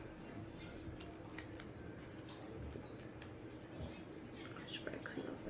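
A knife cuts a slab of layered Italian rainbow cookies into pieces, giving faint, close, repeated cutting taps and scrapes, with a soft voice at times.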